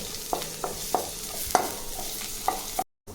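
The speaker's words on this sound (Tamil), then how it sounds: "நல்லா இது போல் பொன் நிறமாக வறுக்கணுங்க." Garlic and spices for idli podi dry-roast in a pan, giving a soft crackling sizzle as a utensil scrapes and stirs in several distinct strokes, close and moderate, then a sudden cut to silence.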